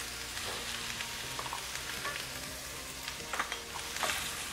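Ground beef for a lasagna fries in a pan, a soft, steady sizzle heard close but quietly, with a few light pops and stirring scrapes near the end.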